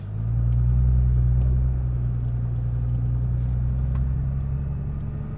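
Nissan GTR in manual mode with paddle shifters, driving along a wall on the Las Vegas racetrack; a deep, steady engine rumble heard from inside the cabin, swelling slightly early on, then holding.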